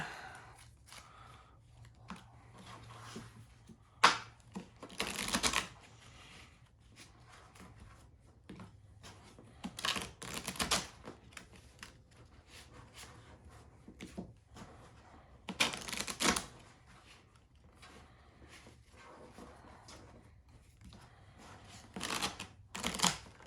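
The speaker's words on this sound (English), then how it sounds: "hopefully a little better shuffle than last time to the wrestler market" A deck of cards for a pro wrestling promoter board game being riffle-shuffled by hand, several bursts of crisp fluttering riffles spaced through the stretch with quiet handling between.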